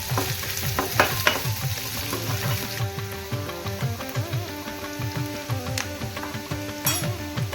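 Onions sautéing in a pan give a steady, close sizzle with repeated stirring scrapes and spatula taps throughout, with no talking.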